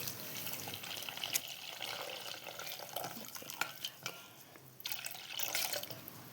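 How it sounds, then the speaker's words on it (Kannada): Rice semolina for rava idli being washed in a bowl of water, with close sloshing, dripping and splashing in uneven bursts, some louder swishes near the end. "ಈ ರವೆಯನ್ನು ಒಂದು ಸಾರಿ ತೊಳೆದಿಟ್ಟರೆ ಸಾಕು"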